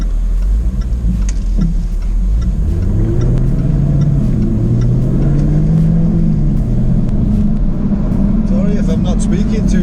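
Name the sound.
2024 Jaguar F-Type car engine driving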